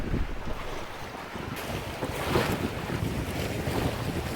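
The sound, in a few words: boat on big waves in wind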